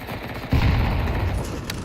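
Tech 9 gunfire in a Counter-Strike match at a professional esports event, a dense burst of rapid shots starting partway through and continuing steadily to the end, loud and close.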